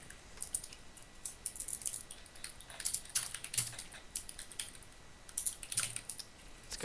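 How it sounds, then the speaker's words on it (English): Rapid, irregular keyboard typing clicks from a computer keyboard during a League of Legends mid-lane coaching session, faint and close, in uneven bursts with no talking. "Who's typing?"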